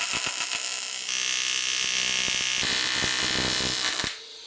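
Aluminium pie-cut intercooler pipe pieces for an Audi S4 being TIG-welded, a steady close electrical buzz and hum with a crackling texture that holds for about four seconds, then cuts off abruptly.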